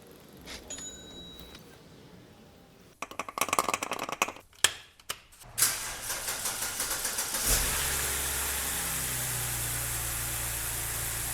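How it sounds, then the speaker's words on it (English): BMW N52 engine with engine flush added to the crankcase, starting with a few sputtering bursts and then settling into a steady, close idle hum. "So we're putting this engine flush into the crankcase. We're gonna let it idle in there for 15 minutes and then drain it."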